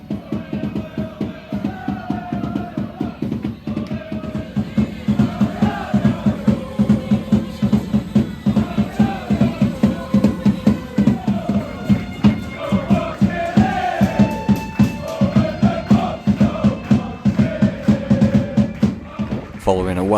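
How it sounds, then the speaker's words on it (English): A pre-match football crowd at non-league Buxton FC fills the stands with a dense, continuous murmur of chatter and raised voices, with occasional shouts standing out from the steady hubbub. "Time to soak up the pre-match atmosphere as we await the teams"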